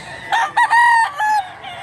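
A rooster, a gamecock in a hatch, crows once close by, a loud drawn-out call broken into several rising and held syllables, with no talk over it.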